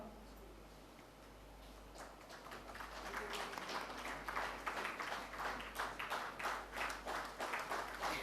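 An audience at an HPCL corporate event applauds an award-winning businesswoman. The clapping starts faintly, builds after a couple of seconds and turns into a steady round of crisp claps in a hall.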